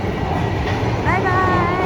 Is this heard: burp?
no